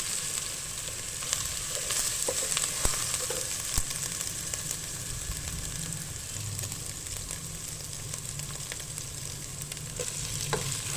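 Garlic and ginger fry in a pan while cooking daal chicken, giving a steady, close sizzle throughout with occasional light stirring clicks. No one speaks.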